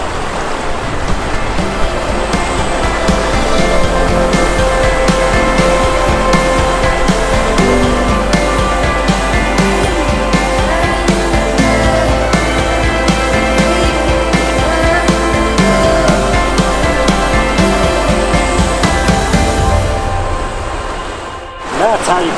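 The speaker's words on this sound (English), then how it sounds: "That's how you cross a river." A hiker wades across a river in the Superstition Wilderness, steady rushing and splashing water filling the scene loudly and continuously, with faint talk mixed in, before the flow drops away briefly at the very end.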